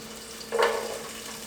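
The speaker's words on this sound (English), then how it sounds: "So we're going to put in the onion" Chopped onion drops into a hot pot for a vegan corn chowder, setting off a sudden burst of sizzling frying that then settles into a steady, softer crackle, close by with no talk.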